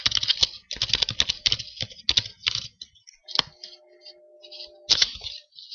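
Rapid clicking keystrokes on a computer keyboard as an IP address is entered into a browser search bar, close and crisp bursts of typing with brief pauses and a couple of isolated key presses.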